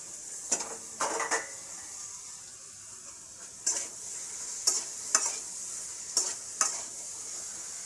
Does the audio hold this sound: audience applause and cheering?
no